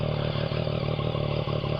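A 2014 Yamaha MT-09 motorcycle ridden on rough ground, its engine giving a steady low throbbing drone with faint clattering and a couple of brief bumps, moderately close, with no talking.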